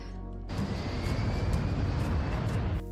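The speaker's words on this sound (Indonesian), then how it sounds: "Ketika pesawat ingin lepas landing" Airplane taking off, a sudden broad roar of jet engines that swells in at the start and holds loud and steady, with a rising whine above the rumble and no talk.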